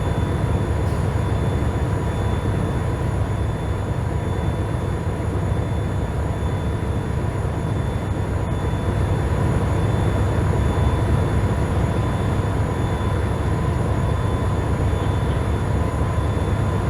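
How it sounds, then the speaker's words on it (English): A locomotive in the Trainz railway simulator game starting up and running, a steady loud engine rumble with a constant mechanical drone throughout and no talking. "before we can move this train, we have to start this locomotive"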